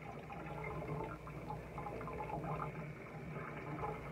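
Chicken of the Woods mushroom is rinsed under running tap water, a steady, soft splashing stream with irregular patter as water hits the mushroom, continuous and fairly quiet, with no talking.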